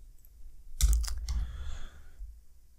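Brief burst of typing on a computer keyboard, a few quick clustered key clicks up close, then quiet room tone.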